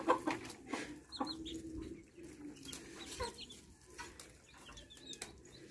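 Chickens cluck near and softly from a mixed flock of roosters and hens, with scattered clucks and squawks over a quiet outdoor background.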